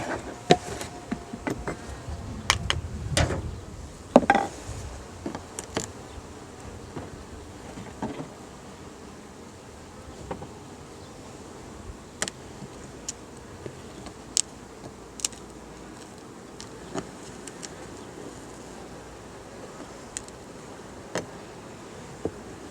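Honey bees buzz over an opened hive frame outdoors in a faint, steady hum, broken by scattered clicks and light handling taps, with no speech.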